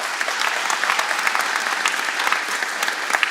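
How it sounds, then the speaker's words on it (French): Audience applauding the team at a museum inauguration at an aeronautics museum, a steady burst of close, dense hand clapping that holds throughout with no voices standing out. "Je vous demande de l'applaudir."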